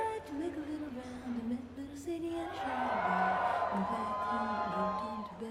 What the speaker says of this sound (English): On the Naughty Dog logo, you get this big cheer.